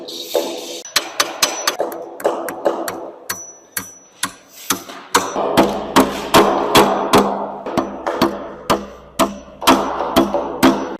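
Hammer driving nails into a bracket on a tiny-home build at a construction trade school: a long run of sharp, close, loud strikes at an uneven pace, falling into a steadier rhythm of heavier blows in the second half.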